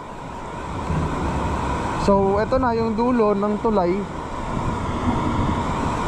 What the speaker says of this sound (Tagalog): Itong ilog na to rin ng Salarin, mataas na.